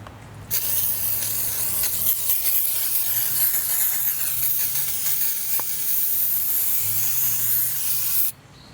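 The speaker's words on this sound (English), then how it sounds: "you will need to use the brake cleaner to wash it off. And you need to do it on both sides of the rotor." Brake cleaner hisses out of an aerosol can in one long continuous spray onto the brake rotor of a Lexus UX, loud and close, before cutting off abruptly.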